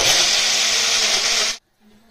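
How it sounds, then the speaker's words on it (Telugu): A mixer grinder whirs loudly and steadily while grinding chopped tomatoes in a kitchen, running for about a second and a half before cutting off abruptly into near silence. "సన్నగా కోసుకొని ఇది కూడా మిక్సీకి"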